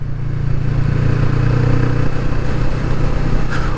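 A Kawasaki Vulcan S motorcycle engine hums steadily during a ride, a loud close throbbing drone with a low, even beat and no talk.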